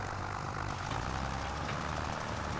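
Tractor engine in Farming Simulator 25 drones steadily at a low, heavy idle-like rumble, continuous and close with no talk.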